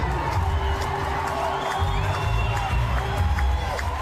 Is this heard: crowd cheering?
yes